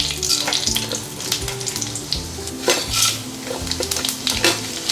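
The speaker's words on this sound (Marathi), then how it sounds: "मला फक्त खडे मसाले आणि हा जो हिरवा मसाला आहे तो फ्राय करून घ्यायचा आहे" Whole spices and green masala fry in hot oil, with bay leaf and cumin going into the pan for a tender coconut curry: a loud, continuous close sizzle with repeated stirring scrapes and knocks and no talking.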